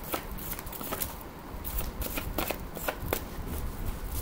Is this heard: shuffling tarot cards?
yes